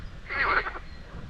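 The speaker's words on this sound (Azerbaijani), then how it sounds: "qurbağaların səslərinə qulaq asırsan" A single frog croak rises out of low background noise in a rural village spot in Ismayilli district, brief and moderately near, with no talk over it.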